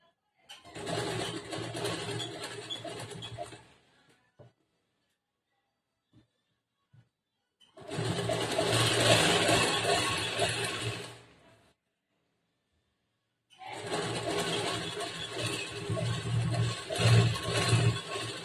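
A sewing machine stitching a blouse side fitting runs in three separate bursts of a few seconds each, whirring steadily and close up, with near silence and a few faint clicks between runs.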